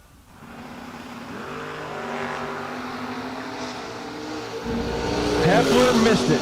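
A Camaro and a Chevy II drag racing car launch at a drag strip, their engines droning and swelling louder toward the end over a loudspeaker voice.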